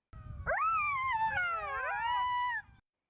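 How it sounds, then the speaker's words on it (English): Several overlapping wavering howls rise and bend together for about two seconds, a close chorus of jackal cries over faint rustling. "a loud, joyous howl rang through the air"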